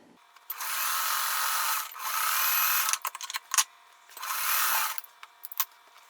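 A sewing machine stitches quilt strips in two long whirring bursts, loud and close, separated by brief pauses filled with clicks and fabric handling.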